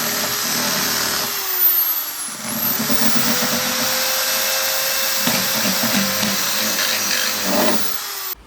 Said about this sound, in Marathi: हे थोडं थोडं गॅप आहेत ना तर राहिलेत ते घासतो असे ड्रिलने